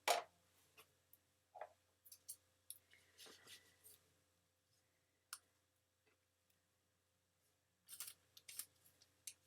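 Scissors trimming small pieces of paper for a handmade birthday card tag. Crisp, faint snips and clicks come in sparse bursts separated by near silence, with a quick cluster of cuts near the end.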